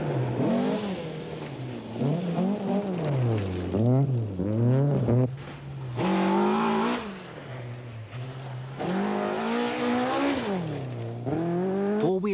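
A Quattro rally car engine is driven hard on loose forest tracks, revving and falling repeatedly through gear changes in a loud, close, wailing series of climbing and dropping pitches.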